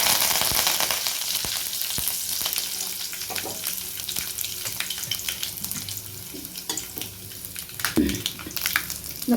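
Curry leaves fry in hot oil for egg paniyaram kulambu, a steady close sizzle with spitting pops and occasional stirring scrapes, strongest at the start and flaring again near the end.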